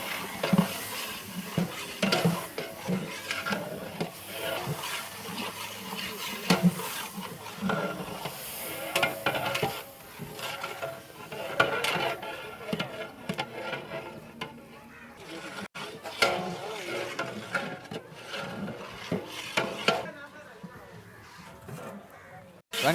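Tomatoes, two kilos, going into a large pan of frying mutton masala and stirred, with steady sizzling hiss and scraping of a spoon against the pot, while someone talks over it throughout.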